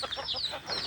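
Several chickens clucking in short bursts as they follow goats being herded to pasture, fairly close and moderately loud, with no talk.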